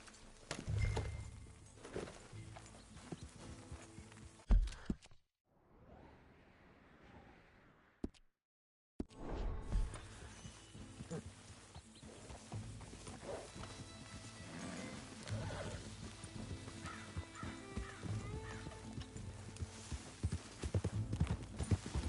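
Rhythmic clip-clop of video game horse hooves on a hard surface, steady and close, continuing for a long stretch after a short quiet pause.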